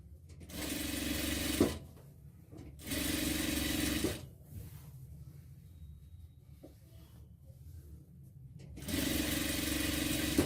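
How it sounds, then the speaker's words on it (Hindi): A sewing machine runs along the edge of the buckram on one side of a pair of trousers, in three bursts of fast mechanical stitching: two short runs close together, a quiet pause, then a third run. "चलिए मैं यहाँ पर किनारे किनारे सिलाई लगा रहा हूँ बकरम के एक तरफ"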